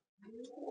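A pet pigeon gives a single soft, throaty coo close by, rising after a moment of silence and lasting under a second, alone without any talking.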